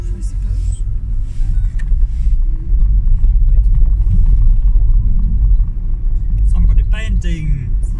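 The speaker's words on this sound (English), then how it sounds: "So we are driving now." Car interior driving through the historic part of Portsmouth, with a steady low engine and road rumble throughout, loud and close, and a faint voice near the end.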